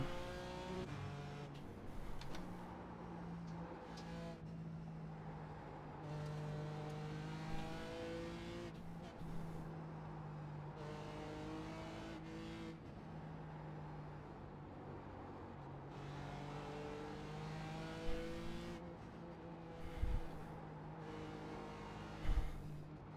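A BMW racing car engine in a driving video game revs hard and climbs through the gears in repeated rising sweeps, loud and continuous, with brief higher-pitched whines and a few sharp knocks near the end.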